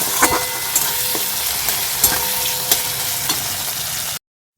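Onion and chillies fry in a pot set on a clay stove for a meat curry, giving a close, continuous sizzle with scattered sharp pops and scraping clicks of stirring.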